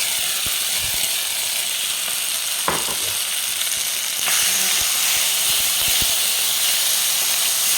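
Sliced bilimbi dropped into roasted coconut in a hot pan, a steady bright sizzle and hiss with a few scraping stirs and clatters.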